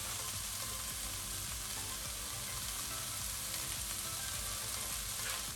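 Softened vegetables sizzle steadily in a saucepan as a tablespoon of tomato puree goes in for a pepper and paneer masala, a constant close frying hiss with faint stirring and no talking.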